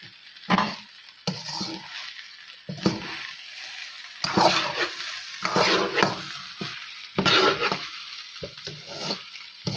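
Fried rice with pepper stir-fried in a pan, with bursts of scraping, tossing and sizzling in uneven bursts and short quiet gaps in between, close and fairly loud.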